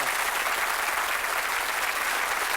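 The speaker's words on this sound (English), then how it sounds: "Give him a nice round of applause" A studio audience at a darts quiz show gives contestants a steady, loud round of applause, dense and continuous throughout.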